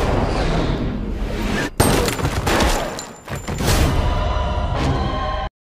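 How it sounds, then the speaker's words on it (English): Movie trailer gunfire: sharp gunshots and bursts cracking over a dense, loud mix of explosions and crashes, ending abruptly. "I'm just gonna shoot him in the leg."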